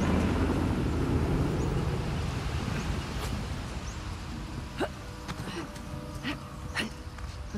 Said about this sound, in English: Hear that? Chopper!